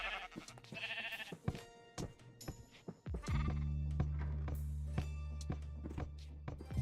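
Sheep bleating in Minecraft, a few short repeated bleats early on, followed by mechanical piston thunks and a steady low hum, with sharp clicks and knocks scattered throughout.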